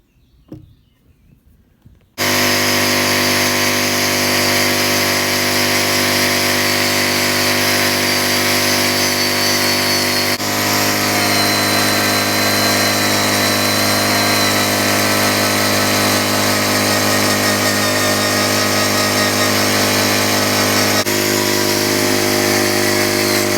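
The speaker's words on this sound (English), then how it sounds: "So this side of the door I'll sand back and paint" An electric power sander works on a David Brown tractor cab door in a workshop, starting after a few quiet handling noises and then droning loudly and steadily for about twenty seconds.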